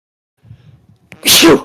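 A single loud, close human sneeze with a short breathy intake right before it.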